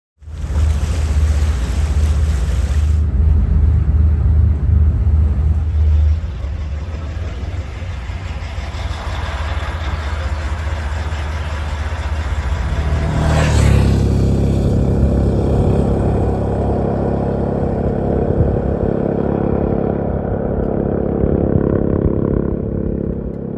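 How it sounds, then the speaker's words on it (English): A cable-operated river ferry on the Dempster Highway powers across toward Eagle Plains, its engine a steady low rumble beneath rushing water and wind buffeting the microphone, the drone shifting and deepening midway through. "This is the second ferry of the day, powering back to sort of Eagle Plains."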